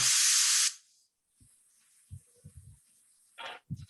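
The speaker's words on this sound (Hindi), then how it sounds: "किसका ये कुकर वाला सीटी पोर्ट मार रहा है भाई?" A pressure cooker whistle blasts a loud, rushing steam hiss for under a second and then cuts off abruptly, followed later by a shorter, fainter hiss and a few soft knocks.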